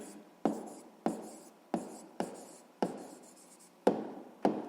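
A pen writes on paper during a sixth-grade math exercise, with a run of about eight short strokes, each starting with a crisp tap, close and quiet in a silent room.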